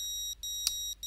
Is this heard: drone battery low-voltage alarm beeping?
yes